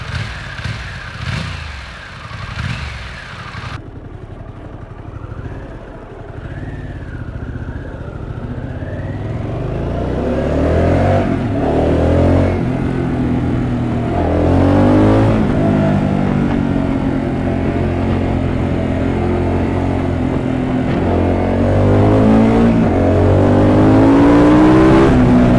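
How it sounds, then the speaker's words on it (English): Harley-Davidson Pan America Special 1250 with V2 engine and stock exhaust, loud and close, opening with a deep rumble, then revving and accelerating through rising and falling pitch sweeps as the bike gains speed. "Stock exhaust sounds good, but you might not hear much when gaining speed and getting hit with the wind in your helmet."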